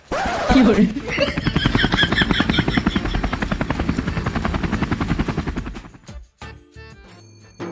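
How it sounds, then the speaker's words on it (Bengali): A helicopter lands near a group of people, its rotor beating in a loud, fast, steady chop for several seconds before cutting off abruptly, followed by a few scattered clatters. "আমার হেলিকপ্টার ল্যান্ড করার জায়গাটাও তো দেখতে হবে"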